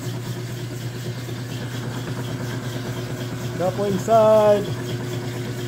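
Marine engine running on a test stand, with a reverse planetary gear letting out a rising, whistling whine near the end over a steady low idle, while someone talks close by throughout.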